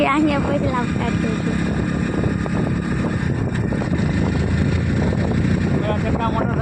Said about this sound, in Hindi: मेरा चाचा मोटरसाइकिल चला रहा है।